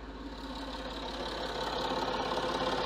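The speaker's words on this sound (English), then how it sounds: "Yeah, that's a horrible noise. That's the rattly timing chain." Citroën C6 engine idling with a rattly timing chain, a quiet steady low rumble with a fast rhythmic knocking clatter throughout, no voices.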